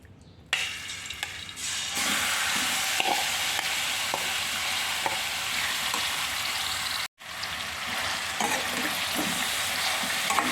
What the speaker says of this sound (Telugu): ఆయిల్ వేడెక్కాక ఈ చికెన్ మొత్తం వేసుకొని కొంతసేపు వేపుకోవాలి